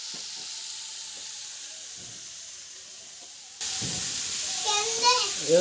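Vegetarian food frying in a pan: a quiet hiss gives way to a louder, steady sizzle, with people talking nearby.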